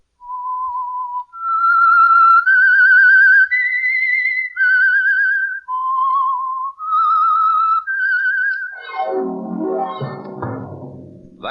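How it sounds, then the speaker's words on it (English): A signature whistled tune opening The Whistler, a 1946 radio mystery drama: a clear, loud melodic whistle of a dozen sustained notes, alone, followed by a brief burst of orchestral music. "That whistle is your invitation to another Meisterbrow mystery drama presented by the Whistler."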